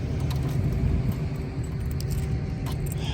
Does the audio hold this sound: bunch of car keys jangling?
yes